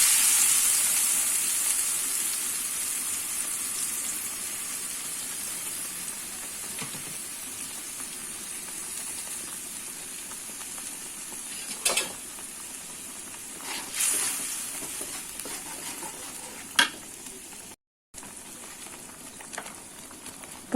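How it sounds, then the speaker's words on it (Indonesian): Spice paste sautéing in hot oil for Betawi sambel godog, a steady close sizzle and hiss that runs throughout, with a few brief clicks and knocks partway through and no voices. "Setelah itu kemudian bumbunya ditumis hingga harum ya teman-teman"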